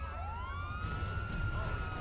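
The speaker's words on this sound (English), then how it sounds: "So we are still following this police car right here." Police car siren in the video game GTA 5, a continuous wailing tone rising and sweeping in pitch over a low engine rumble, moderately loud and heard alone for about two seconds.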